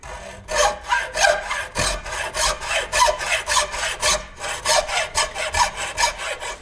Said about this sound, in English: Something I've always done for bow making is to use a hacksaw because the teeth are so fine.